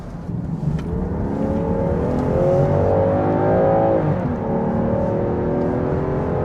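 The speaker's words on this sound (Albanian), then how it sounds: "Ky 3000 turbo pas ka fuqi, për të hes goxha ecën, shumë smooth si motor." A Land Rover Defender 110 with a 3.0 turbo inline engine pulls strongly from inside the cabin, its smooth hum climbing steadily in pitch as it accelerates, then easing back, with no talk.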